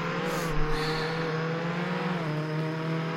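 A Mustang engine in Roblox Jailbreak revs with a steady tonal whine that holds, briefly rises, then shifts pitch downward, close and continuous with a short burst of extra noise near the start.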